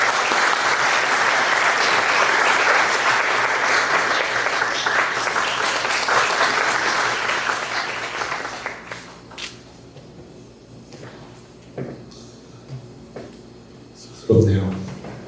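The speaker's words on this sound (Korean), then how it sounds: "여러분 큰 박수 부탁드리겠습니다" An audience at a book concert applauding as an author and professor is welcomed on stage, a long full round of clapping that fades out, followed by scattered knocks and clatter with talk.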